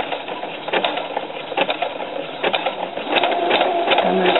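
Sewing machine stitching a lettuce-leaf edge on shorts fabric, running slowly with a steady mechanical whir and small rhythmic bursts, close and fairly loud, no voices.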